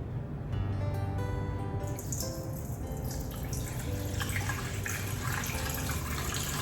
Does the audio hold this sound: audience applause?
no